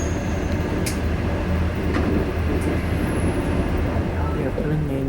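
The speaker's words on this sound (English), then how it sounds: "We are pulling into the Shanghai railway station." An overnight sleeper train from Shijiazhuang rolls into Shanghai railway station, giving a steady loud rumble of wheels and carriage noise with faint squeals, while people talk over it.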